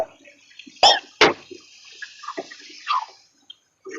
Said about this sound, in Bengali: এই ক্ষেত্রে আমি একটু পানি অ্যাড করবো